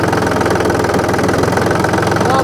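A mini tractor's engine runs close and loud, a steady knocking chug with a rough mechanical vibration as it is given a little throttle, with no voices.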